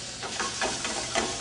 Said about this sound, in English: So I have my Spätzle right here, and they go right into the hot brown butter.